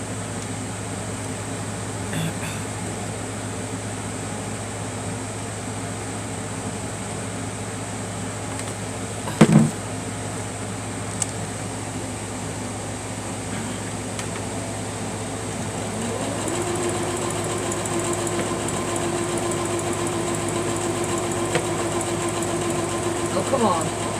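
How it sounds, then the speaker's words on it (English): A home sewing machine stitches down a quilt with a steady mechanical whir and hum that runs throughout, gets busier in the second half and is broken by one sharp clack partway through. "so I'm going to go sew this down."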